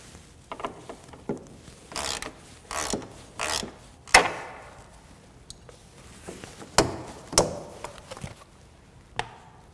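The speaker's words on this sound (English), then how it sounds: "we'll start by removing the screw here that holds on this panel" Removing a screw from an access panel on a Polaris RZR RS1 produces close clicking and ratcheting bursts, then a sharp plastic clack and a few scattered knocks as the panel comes free.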